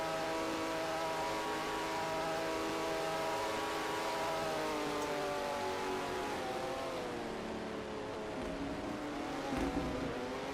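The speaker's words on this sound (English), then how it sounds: "It's really interesting hearing the shifts of the cars." Race car engines at the Rolex 24 endurance race whine steadily in the distance, their pitch rising and then dropping at each gear change, with a constant droning roar throughout.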